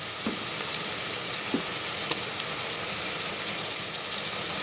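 Ginger paste sizzles in a hot pan for a spicy mutton curry, giving a steady low frying hiss with a few soft clicks from stirring.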